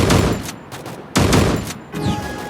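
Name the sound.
shotgun firing new bullets in video game Free Fire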